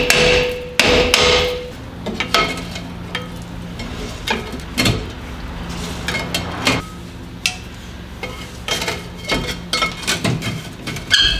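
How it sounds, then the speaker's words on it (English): A hammer taps repeatedly on a worn brake drum of a 2009–2013 Chevrolet Silverado during drum brake replacement, with sharp, irregular metallic knocks close by and no talking. "I'm gonna use a hammer and lightly use a pry bar to kind of wiggle the"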